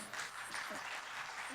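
Faint audience applause at a conference panel, a short, steady wash of clapping from a crowd with some voices mixed in.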